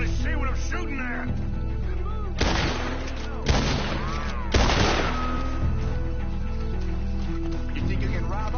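Gunfire from the video game Red Dead Redemption 2: three loud, sharp shots, about a second apart, cut through a constant musical score and other game audio.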